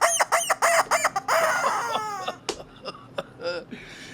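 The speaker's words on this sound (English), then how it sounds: "And the rubber chicken says..." A rubber chicken toy squawks in a quick run of loud, squeaky honks, then gives a few shorter sputtering squeals that trail off, heard alone without talk.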